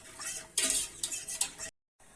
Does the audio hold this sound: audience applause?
no